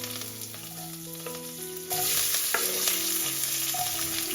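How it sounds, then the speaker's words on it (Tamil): Loud, steady sizzling of mustard seeds, cumin, cinnamon, dried chillies, curry leaves and onion frying in hot oil, with occasional stirring scrapes; the sizzle grows stronger partway through. "கடுகு, சீரகம், பட்டை வத்தல், கருவேப்பிலை, அப்புறம் வெங்காயம் எல்லாம் சேர்த்து வதக்கி"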